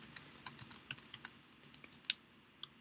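Fingers tap out registration details on a computer keyboard, a quick uneven run of light clicking keystrokes, close but quiet.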